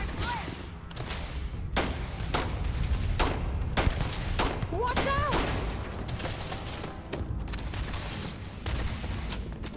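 Laser gunfire in a Starfield video game shootout, a rapid series of sharp bursts and zaps at an uneven rhythm, loud and close, with someone talking over parts of it.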